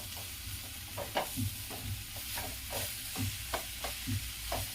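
Beans and vegetables for crispy veg cutlets being stirred in a frying pan, with a steady sizzle under repeated scraping strokes of a spoon against the pan at an even rhythm, close by with no talk.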